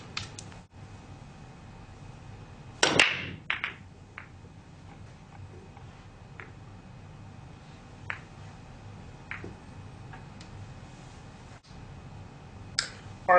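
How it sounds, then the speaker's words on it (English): Pool break shot, a cue ball striking a rack of billiard balls, giving one sharp clack followed by a brief scatter of lighter ball clicks, then sparse faint knocks in a quiet room. "I didn't make any balls on that break shot"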